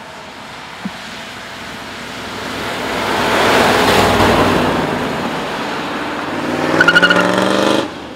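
A 1967 Corvette Stingray engine revs up and settles, swelling loudly through the middle, then climbs again with a rising growl before cutting off abruptly.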